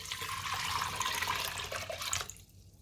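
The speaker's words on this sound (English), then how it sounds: "I'm going to be adding it to my pot, and also I will pour in some amount of water." Water pours steadily into a cooking pot for about two seconds, a close, continuous splashing rush that stops abruptly.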